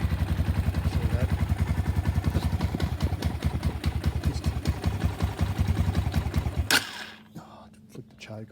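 A Braaap ST 250 road bike runs close by after a quick start, its single-cylinder engine thumping in a rapid, even beat before it abruptly cuts off near the end.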